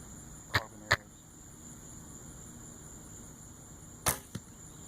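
Two pairs of sharp carbon-arrow releases from a 62-inch, 45-pound Ben Pearson Colt traditional bow off an elevated rest, each shot followed by a quick thud into the target, close and distinct against quiet outdoor background.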